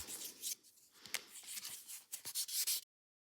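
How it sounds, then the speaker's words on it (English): Light scratchy rubbing strokes of fine sandpaper worked by hand on a resin gearshift knob, irregular and close, stopping abruptly. "Let's move down to some finer sandpaper."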